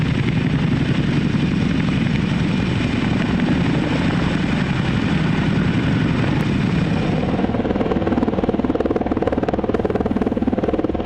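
A Chinook heavy-lift helicopter flies with a continuous, dense rotor and engine drone, steady and moderately loud for the whole stretch, with no voices.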